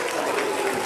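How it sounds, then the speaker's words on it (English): School assembly audience clapping together, a dense, even burst of applause heard up close for about a second, with no talking over it. "Give yourself a round of applause."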